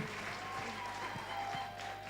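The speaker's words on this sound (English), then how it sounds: "Ebu clap very well. Clap again." A group of people clapping at a girls' storytelling forum on child marriage, a few scattered claps under a steady murmur of voices, soft and close.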